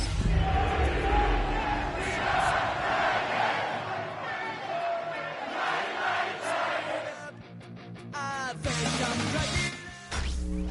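A stadium crowd in an EA Sports football video game roars and cheers loudly and continuously under big-event night lights, with crashing hits and a brief dip before the noise swells again.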